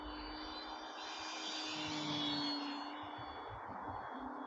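An Arrows RC Trekker model airplane flies overhead, its electric motor giving a steady high-pitched whine that swells as it passes closer, then eases slightly, with no voices.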